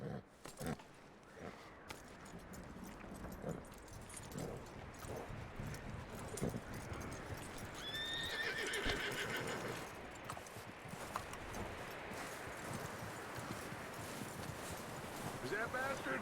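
A horse in the Red Dead Redemption 2 video game whinnies and clip-clops over a busy ambient background, with soft hoof beats and a brief neigh mid-clip.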